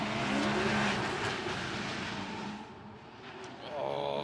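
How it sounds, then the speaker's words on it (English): A VR38-engined drift car roars at a drift practice event in China, its loud engine wail mixing with tyre noise and rising revs near the end, while a commentator talks over it throughout. "Samchen giving it a big old roar of VR38 engine"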